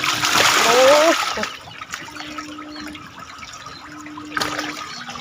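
Shark catfish thrash and splash at the water surface while feeding by hand, a close burst of splashing at first that settles into quieter dribbling, with voices talking over it.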